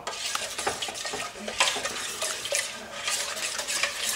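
A spoon stirs an orange marmalade and honey dipping sauce in a bowl, giving a close, continuous wet scraping and swishing with small clicks against the sides, with no talk over it.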